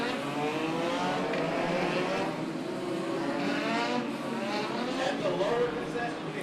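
Legends race cars lapping at Stockton 99 Speedway, a continuous loud engine roar with shifting pitch from several cars running together, steady throughout with no clear gaps.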